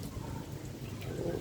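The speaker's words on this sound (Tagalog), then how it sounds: "palakas na po yung ulan" Heavy rain pouring during a typhoon signal no. 3 storm in Paniqui, Tarlac, a steady, faint, continuous wash of rainfall with no voices.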